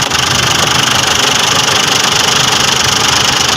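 A 2010 Ford Everest engine runs after an ECU replacement, a loud, steady idle with a continuous rumbling drone and slight rhythmic pulsing, heard up close without talk.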